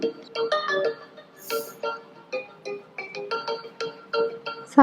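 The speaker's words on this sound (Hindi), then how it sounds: "फोन" A phone rings indoors at home in a repeating electronic ringtone melody, a series of bright tonal bursts with short gaps, moderately loud and heard alone.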